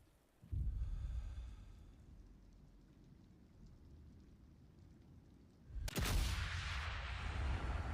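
A loud sniper rifle shot rings out from the Sniper Elite Resistance video game, a sudden broadband crack with a booming low tail, following a steady rain-like ambient rumble.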